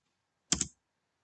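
Password being typed on a computer keyboard: a single brief cluster of a few quick key clicks in an otherwise silent moment, close and fairly soft.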